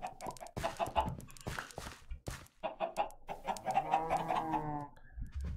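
Minecraft chickens clucking in a farm area, a rapid run of short game clucks and bird calls stacking up close and fairly loud, with no talk over them.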